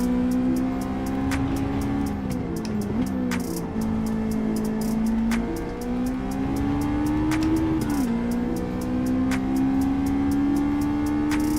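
Ferrari race car engine in Gran Turismo 7 at Road Atlanta holds a steady loud high-pitched drone, rising and dipping as it revs through gear changes across the whole stretch, with no talk over it.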